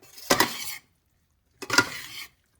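A vegetarian dish with cheese being stirred in a pot, giving two short bursts of scraping, clinking utensil-on-pot sounds separated by a pause, close and moderately loud with no talking.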